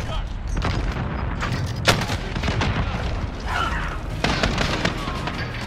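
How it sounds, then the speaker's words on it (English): A grenade blast and scattered gunfire in a first-person shooter video game, with several sharp booms punctuating a noisy firefight while voices speak over the action. "Grenade out!"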